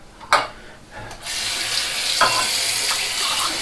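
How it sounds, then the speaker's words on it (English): A tap runs hot water into a shaving bowl where a brush has been soaking. A couple of small knocks come first, then a steady, close rush of water that continues to the end. "I'm going to fill my bowl here that I had my brush soaking in with hot water"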